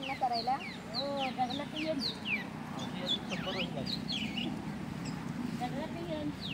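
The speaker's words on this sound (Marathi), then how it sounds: "हा पक्षी ना घाबरत नाही." Birds call and cluck repeatedly near a farm field during rice transplanting, with quick chirping sweeps over a steady background of voices.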